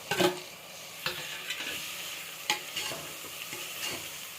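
Tomatoes stirred and frying in a pan for mutton biryani, a soft sizzle beneath irregular scraping and clacking of a spoon against the pan, several sharper knocks spaced across the stretch, no talking.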